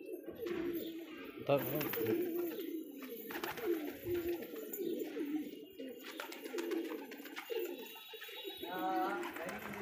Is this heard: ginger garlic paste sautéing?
no